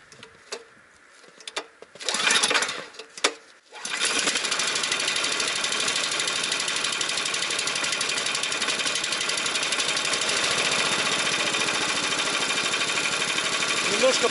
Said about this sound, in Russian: завожу изначально, когда он долго стоит, на ручным стартером.